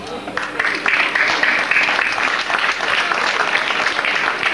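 A dense round of audience applause rises at a children's musical of Snow White and the Seven Dwarfs in Sant'Eusanio, steady and fairly loud from start to finish, with some voices mixed in.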